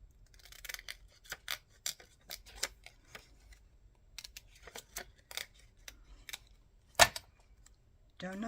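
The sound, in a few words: scissors cutting out printed paper pieces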